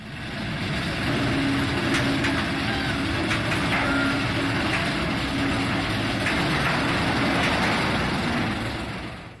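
Raging Bull roller coaster train being hauled up the chain lift: a continuous loud mechanical rumble and clatter with a steady low hum and occasional sharp clanks, unbroken for the whole stretch.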